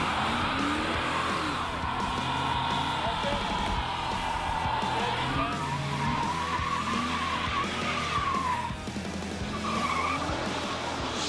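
Hemi hot rods race side by side out of a driveway, their engines roaring loud and continuous while tires squeal throughout.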